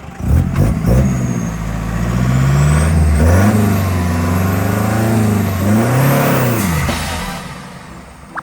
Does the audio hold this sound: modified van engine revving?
yes